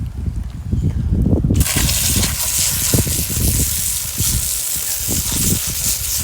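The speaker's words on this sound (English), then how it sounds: "You can see what I'm doing is basically just rinsing this stuff off here." A hose sprayer rinsing scale cleaner off a sago palm outdoors, a steady loud hissing gush of water that starts abruptly and runs continuously, with rustling of fronds underneath.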